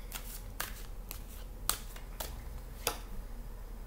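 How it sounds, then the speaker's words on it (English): Tarot cards being shuffled by hand close up, a series of crisp riffling snaps at irregular intervals over a steady low hum. "Let's pull some more cards."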